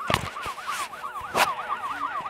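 A wailing police siren in the video game Smashy Road sweeps up and down in fast, repeated yelps, loud and close, with a few sharp knocks and thuds mixed in.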